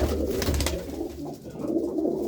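Domestic pigeons, white hens wearing double leg rings, coo softly and repeatedly in a loft, their low throaty calls overlapping against faint background noise.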